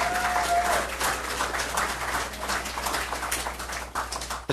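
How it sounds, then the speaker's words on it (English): Applause from an audience at a city council meeting honoring a team's families, a steady wash of clapping held at an even level for the whole stretch, with no voices on top. "a round of applause to the families"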